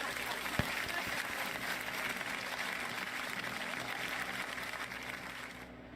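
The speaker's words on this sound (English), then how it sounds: "Let's give them a round of applause." A forum audience applauds steadily as panelists are welcomed at a breast cancer support event, with dense sustained clapping filling the room for several seconds before tapering slightly at the end.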